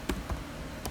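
A computer keyboard typed in a few quick, light keystrokes, with two or three soft clicks spaced across a brief moment in a quiet room.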